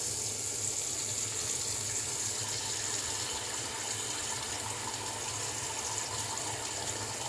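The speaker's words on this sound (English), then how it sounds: "Let me fill the sink." A bathroom faucet runs steadily into a sink as it fills for a wet shave, a soft, even rush of water heard alone at low volume with no talking.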